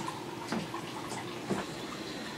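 Water runs steadily into a sink left flowing overnight, a faint continuous trickle with a couple of soft splashy pulses.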